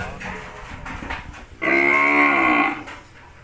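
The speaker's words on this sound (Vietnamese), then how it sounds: "Đó, bò này" A young breeding bull on a Vietnamese cattle farm gives one loud, sustained moo lasting about a second, close by, after a stretch of quieter background noise.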